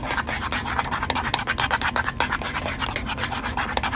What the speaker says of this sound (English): Keep stirring vigorously.